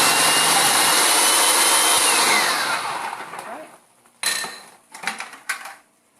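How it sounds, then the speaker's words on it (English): A food processor shreds farm-grown carrots and mashes chickpeas with a loud, steady whirring roar that fades out after about three seconds, followed by a few sharp clatters and knocks. "So you can see the carrots are getting shredded and the chickpeas are getting mashed."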